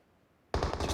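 Automatic gunfire in the battle royale game PUBG Mobile, heard during a competitive PMCO South Asia match: silence, then a sudden loud, sustained burst of rapid shots lasting about half a second.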